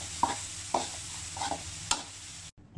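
Southern Thai curry paste with kaffir lime leaves stir-fried in a pan, a few distinct scraping strokes over a soft sizzle, fairly quiet and close, ending in a sudden cut.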